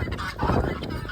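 Guinea hens on a windy farm give harsh, rapid calls that are fairly loud and close, blended with gusty wind noise and no talk.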